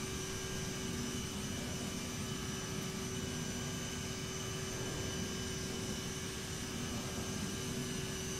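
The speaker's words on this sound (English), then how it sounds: "I'd rather just leave the sounds of the airplane for a little bit." Steady CRJ-700 airliner engine drone from Microsoft Flight Simulator 2020, a continuous faint whine and rushing hum with a fixed tone running unchanged throughout.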